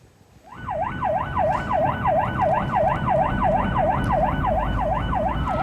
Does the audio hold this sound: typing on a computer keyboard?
no